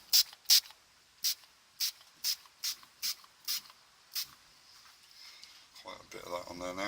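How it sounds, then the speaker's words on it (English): A hand sprayer gives about nine short, sharp hissing pumps in a steady rhythm onto a turned yew wood apple, close and clear, then softer hiss as a voice begins talking near the end. "I'm going to give it another spray over."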